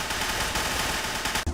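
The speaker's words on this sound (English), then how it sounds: "Except for the nail gun. The nail gun works fine." Rapid, steady nail gun fire in Team Fortress 2 Classic, a dense continuous stream of close, loud shots that cuts off abruptly near the end.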